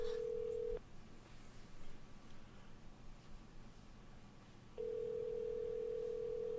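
A steady telephone tone on a phone line, sounding for under a second, then a stretch of quiet line hiss, then the tone returning and holding, clear and even, with no talking.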